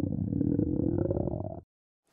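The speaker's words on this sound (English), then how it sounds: "Have you ever noticed your stomach making weird sounds like this?" A human stomach growls in one low, rumbling, gurgling burst lasting under two seconds, close and fairly loud, then cuts off into silence.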